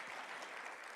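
Audience at a high school and middle school Christmas concert breaks into steady, dense applause, fairly faint and continuous with no break.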